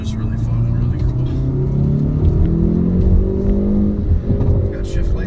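A 2019 Hyundai Veloster N with the Performance Package rumbles loudly from inside the cabin, its engine revving and rev-matching through shifts with rising and falling drone, while a person talks over it.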